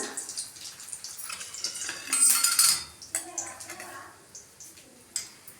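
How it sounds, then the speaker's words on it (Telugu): Dry red chilli, mustard seeds, urad dal and fenugreek seeds temper in hot oil in a pan for a bottle gourd yogurt chutney, giving a steady sizzle mixed with utensil clinks and scraping, with a brief louder burst midway. "ఈ మిరపకాయ ఒకటి ఎండుమిరపకాయ పోపు చేస్తున్నాను"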